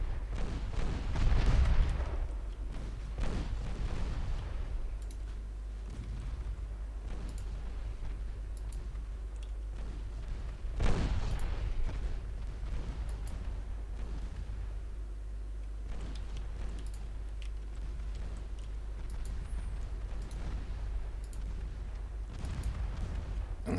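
Warships exchange naval gunfire in the game Ultimate Admiral Dreadnoughts. A few deep, distant booms rumble and fade over a low, constant drone.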